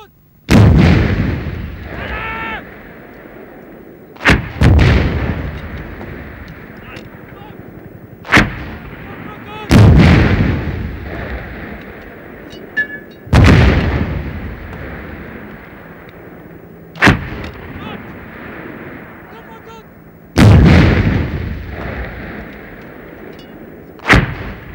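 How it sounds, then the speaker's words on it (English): Artillery firing several HE-441B rounds, heavy booming blasts spaced a few seconds apart, each loud report trailing off into a long rumbling decay, with no voices. "This was rapidly followed by several HE-441B rounds."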